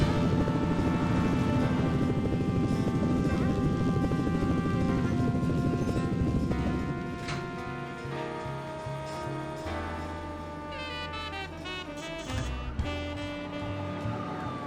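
Helicopters circle over a city in the SimCity 3000 game, a steady loud rotor-and-engine drone blended with layered game music and tones that thin out midway, with no talking.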